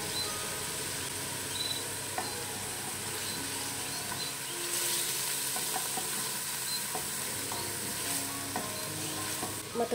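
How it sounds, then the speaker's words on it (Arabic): Onion and garlic fry in olive oil with a steady close sizzle, broken by light stirring clicks and scrapes in the pan, continuous throughout with no talking. "غادي ندير البصله والثومه يتشحروا مع شويه ديال الزيت البلديه"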